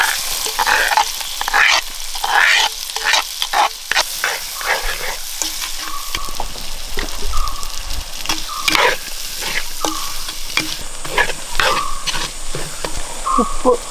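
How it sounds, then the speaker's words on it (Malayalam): Onions sizzle and crackle as they are stirred into oil already used to fry eggs for a Kerala-style egg roast, a steady frying hiss with scraping stir strokes throughout, close and moderately loud, no talking. "മുട്ട വറുത്ത എണ്ണയിലോട്ട് തന്നെ ഉള്ളി ഇട്ട് കൊടുക്കുക."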